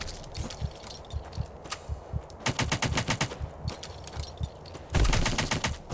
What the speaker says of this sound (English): I guess it is more like a machine gun.